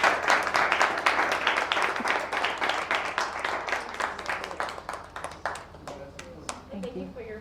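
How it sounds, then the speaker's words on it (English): Audience applause at a talk or interview, a dense, steady patter of many hands clapping for about seven seconds before thinning out toward the end. "give a round of applause."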